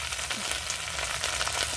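Onion and chili fry in a pan for a chicken and jackfruit curry, giving a dense, continuous close sizzle with small crackles and no talk.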